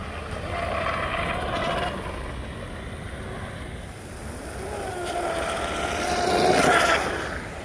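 A brushless-converted RC tunnel hull boat runs on open water, its electric motor whining in a steady high drone that rises as the craft speeds past, with spray and wind noise throughout.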